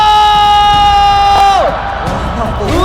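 A loud crowd at an MPL Indonesia Season 15 esports playoff match roars, cheers and whoops in a dense, sustained swell. A held tone stops partway through, and an amplified announcer's voice carries over the crowd.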